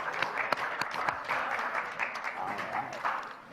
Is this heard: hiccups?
no